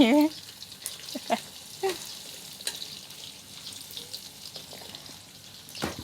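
Pork fries in a pan with a soft continuous sizzle, broken by occasional clinks and stirring scrapes, while a voice speaks briefly at the start.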